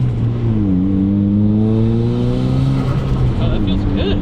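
A turbocharged Honda daily driver accelerating, the engine's tone climbing steadily up close with turbo flutter chattering near the end, a voice speaking over it.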